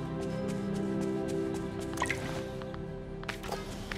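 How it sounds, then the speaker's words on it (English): Flowers are watered in the video game Disney Dreamlight Valley, producing a quick patter of dripping, splashing water over a steady musical background, with a second short burst of drips near the end. "you can water the flowers, apparently"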